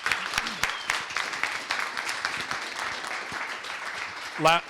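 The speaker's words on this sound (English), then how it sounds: "Let's give him a round of applause." Applause from an audience at a live business training session fills the room for a few seconds, sparse and close claps over a wash, ending with a brief voice.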